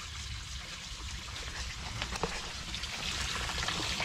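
Soft, steady trickle of water spilling over a stone water blade into a formal garden pond, close and continuous with no talk.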